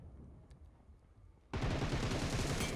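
Gunfire in the mobile battle royale game PUBG Mobile, a quiet stretch suddenly giving way to a loud, sustained burst of rapid shots that fills the rest of the moment.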